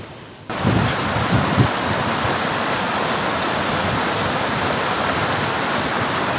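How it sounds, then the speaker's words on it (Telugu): Water rushes loudly and continuously out of a lake, starting abruptly after a short quiet moment, like a strong outflow pouring nearby. "ఎలా వస్తున్నాయో అందులో నుంచి వాటర్ వెళ్ళిపోతున్నాయి"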